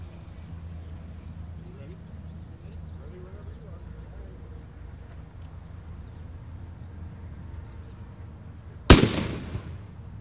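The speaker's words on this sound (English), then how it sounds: "it's going to shoot that brass projectile all the way across" A line-throwing gun fires a brass projectile with one sharp, loud report near the end that rings briefly, after a stretch of quiet background with a person talking.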